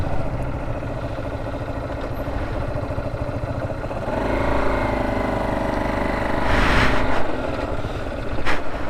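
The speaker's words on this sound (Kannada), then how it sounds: "ಈಗ ಈ ಬೈಕ್ನವರೆಲ್ಲ ಹೋಗ್ತಾರೆ ನೋಡಿ." Several motorbikes rumble and idle near a resort junction at the start of an off-road trail, their engines swelling louder as riders pull away and pass close by.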